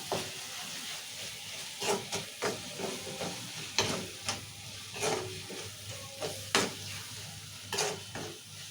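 Masala paste is stirred into a frying potato curry with green chili, with repeated scraping spoon strokes over a soft, continuous sizzle.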